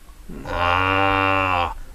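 A human voice imitates a cow, giving one sustained, resonant moo about a second and a half long, rising in at the start and tapering off at the end, alone and fairly close.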